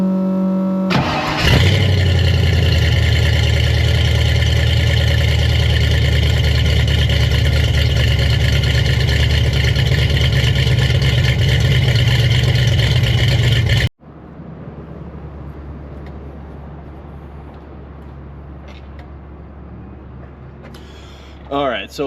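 A 351 V8 in a Foxbody Mustang cranks and catches, then idles loudly and steadily for several seconds before cutting to a quieter, distant rumble.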